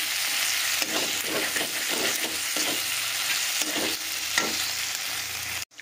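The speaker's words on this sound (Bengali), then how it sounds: "এবার মশলাটাকে আরও একটু আমরা ভাজা করব" Spice paste with tomatoes and salt frying for a foli fish curry, a steady close sizzle broken by repeated scraping stirs of a spatula in the pan, with no talking.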